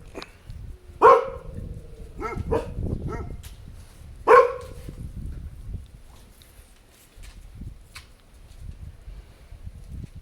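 Two loud, sharp dog barks ring out about three seconds apart, with a few softer yips and whimpers in between, set against low rumbling wind noise.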